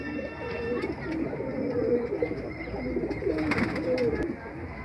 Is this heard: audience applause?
no